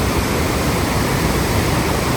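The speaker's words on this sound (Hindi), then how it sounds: "पानी की आवाज़ आपको दिख रही होगी कितनी ज़्यादा पानी का साउंड है" Fast river water rushing beneath a bridge in Kasol, Himachal Pradesh, a loud, dense, continuous roar filling the whole clip without pause or voices.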